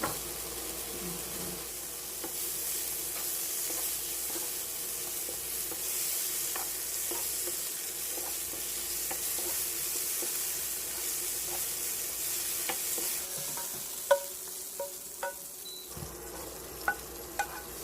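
Steady sizzling of vegetables for burdock japchae stir-frying briefly in a hot pan, with occasional light clinks of a utensil stirring near the end.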